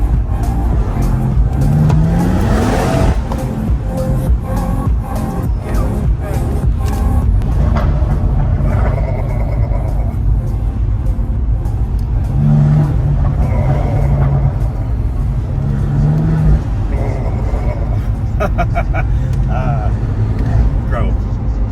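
A loud BMW M140i car engine rumbles and revs throughout, its pitch rising and falling in repeated sweeps, close and continuous.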